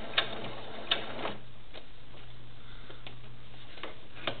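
A sewing machine stitches a doll's shoe, with faint mechanical ticking and soft rhythmic clicks at a close distance over a low steady hum.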